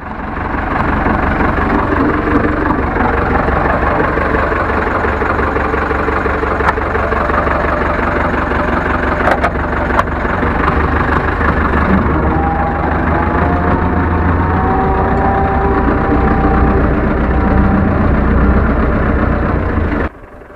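A heavy Ursus C-4011 tractor engine chugs steadily for a long stretch during break-in, loud and close, with a low rumbling throb and occasional clanks.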